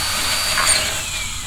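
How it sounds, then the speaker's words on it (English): A drill sound effect for boring a hole through a locked door in an audio drama gives a short, loud, steady mechanical whir with a hissy, high-pitched edge. "I'm going to drill a hole in it."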